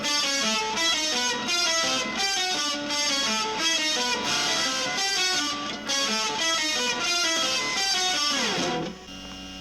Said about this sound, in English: But I'll turn on the up octave